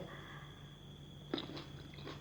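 Crunchy red grapes bitten and chewed with the seeds left in, a single sharp crunch near the middle followed by a few softer chewing sounds, close and fairly quiet over a steady background hum.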